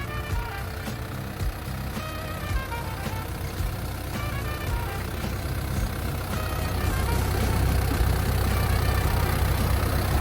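A Caterpillar 312D 12-ton excavator fitted for logging runs steadily, its diesel engine giving a loud, close, continuous rumble with no talking over it.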